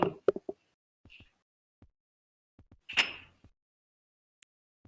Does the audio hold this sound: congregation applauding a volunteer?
no